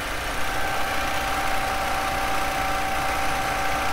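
A car engine idling steadily during a cooling system check, a continuous low mechanical hum with even vibration and no variation in pace, close and fairly loud with no talking.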